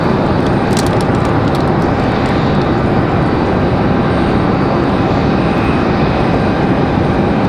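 An airliner inbound from Denver on approach to Raleigh-Durham International, a loud, steady broadband jet roar holding close and constant throughout, with no voices.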